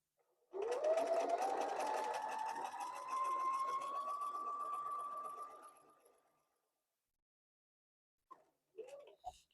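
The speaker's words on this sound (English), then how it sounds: "And we're going to sew that diagonal seam again." A domestic sewing machine stitches a diagonal seam through flannel strips for a baby blanket. It makes one steady, close whirring run of about six seconds, then stops, leaving a few faint handling clicks.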